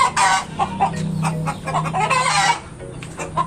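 Chinese chickens clucking in a backyard coop, a close, busy run of repeated clucks and squawks with a low steady hum underneath, no talking.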